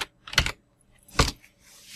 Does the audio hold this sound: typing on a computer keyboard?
yes